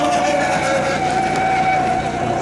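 A steady high-pitched motor whine with a sustained buzzing tone from 1:10 scale electric model hydroplane boats racing continuously at close range.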